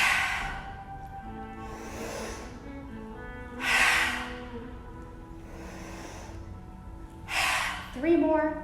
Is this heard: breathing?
yes